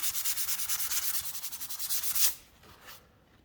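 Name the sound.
light hand sanding of filler on a door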